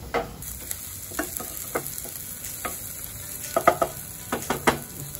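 Chopped onions fry in a kadai for kadai paneer, a close, steady sizzle broken by frequent crackles and pops, with occasional stirring clatter and no talking.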